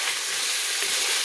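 Food frying in a pan gives a steady close sizzle with soft scraping as it is stirred, a continuous hiss with no voices.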